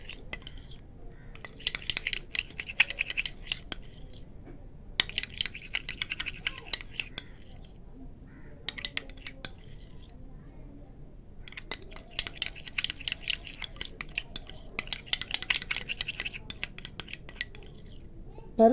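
A spoon stirs a face pack paste of green gram, curd and turmeric in a bowl, giving close, intermittent bursts of scraping and clinking in several separate spells with quiet gaps between them.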